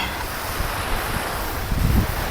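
Waves break steadily on a beach at Oe Sapa in Kupang, with a continuous roar of surf and wind buffeting the microphone, no voices.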